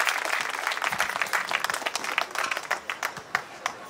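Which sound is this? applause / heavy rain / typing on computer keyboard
applause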